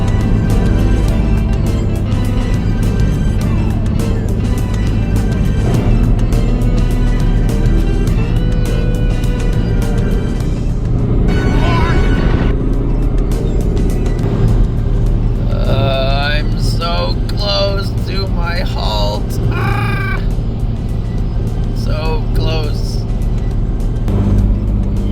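A Honda Accord CB9 wagon cruises down the road with a steady, loud engine and road drone throughout, while people talk inside the cabin.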